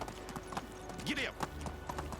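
Horse hooves clip-clopping at a riding pace in the Medieval Dynasty video game, a steady run of light, quick hoofbeats with a brief whinny-like sweep, heard under a voice and game ambience.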